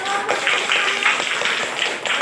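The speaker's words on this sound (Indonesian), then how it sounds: "tepuk tangan dulu dong" Scattered hand clapping from a classroom group after a student's presentation, a steady patter of claps lasting about two seconds with faint voices mixed in.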